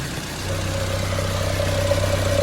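A 2011 Mercedes-Benz B-Class with automatic transmission idles steadily up close, a smooth continuous engine hum with a low drone that holds even throughout.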